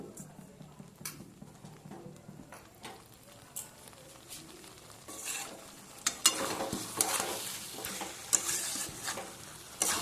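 Bhetki fish curry masala being sautéed in a pan over low-to-medium heat, Bengali style: a soft sizzle with scraping stir strokes, growing louder and denser in the second half.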